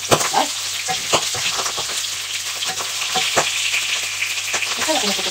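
Pork skin pops and crackles in hot oil while adobo fries in a pan, sharp sporadic bursts over a steady, loud sizzle with a low hum underneath.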